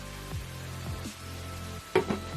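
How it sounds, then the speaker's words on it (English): Cabbage and carrot stir frying in a pan give a low, soft sizzle, with a few brief stirring scrapes over a short stretch. "The focus left here is on the cabbage and the carrot that I'm stir frying."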